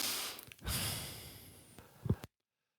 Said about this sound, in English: You have breathing, you have the smacking